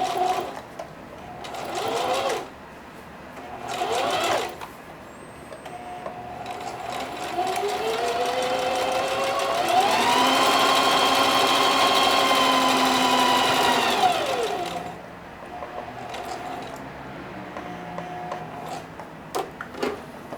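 A sewing machine stitching denim runs in a steady, close whirring drone, rising in speed and pitch through the middle before slowing, with short bursts and pauses around it and no talk.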